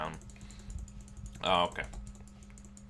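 Computer keyboard typing during a League of Legends match, a steady patter of key clicks running under a brief spoken remark, with a burst of louder clacks in the middle.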